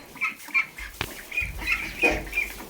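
Ducks quack and chatter in short bursts nearby, with a thud and rustling as feed is scattered.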